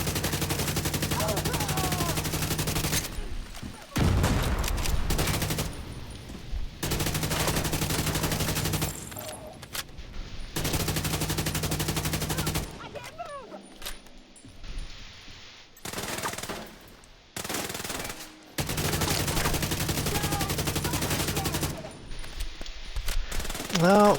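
Video game shootout gunfire comes in repeated bursts of rapid automatic fire separated by short quiet gaps, loud and close, with bits of voice between the volleys.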